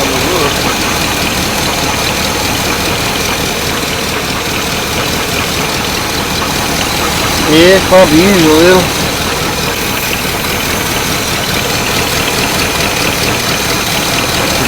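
A squarebody truck engine idling with an exhaust leak, a loud steady low rumble with a rough puffing texture, close up while people talk over it.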